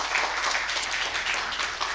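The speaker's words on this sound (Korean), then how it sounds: "격려의 박수로 환영하도록 하겠습니다" A church congregation claps in welcome at a Sunday morning service, a dense, even wash of applause sustained from start to finish with no speech over it.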